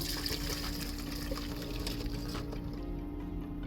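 Ginger tea pours through a strainer into a mixing bowl, a steady close splashing and trickling of liquid that runs throughout without pause.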